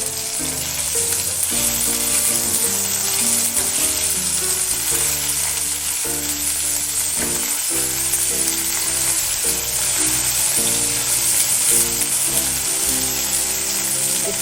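Small mourola fish frying in plenty of oil, a loud continuous sizzle and crackle, though a dense layer of music runs over it the whole time.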